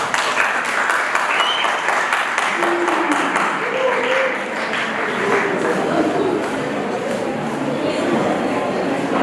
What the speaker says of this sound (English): A big round of applause as they take up the stage